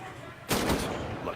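A single loud gunshot at a shooting range in a military video game, a sharp broadband crack with a booming tail that rings on over faint background murmur.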